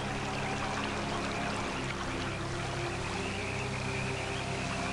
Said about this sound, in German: Wasser, Wasser, Wasser.